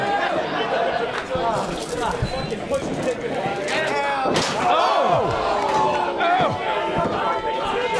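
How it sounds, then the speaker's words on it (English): Steel chain whipping against a steel chair in a live pro wrestling match, a sharp slam amid constant crowd noise and commentary, with a loud impact near the middle. "Whips the chair with a steel chain."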